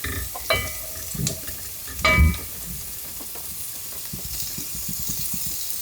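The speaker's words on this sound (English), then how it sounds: "Start frying that off a little bit." Steak frying in a pan as the base for a bolognese sauce, with a steady sizzling hiss, a few sharp utensil clanks and stirring scrapes, and no talking.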